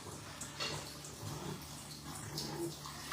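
Water runs steadily from a tap in a bathroom while dogs are bathed, a continuous close splashing rush with no talk over it.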